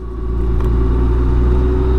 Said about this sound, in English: The K1600 engine is absolutely awesome.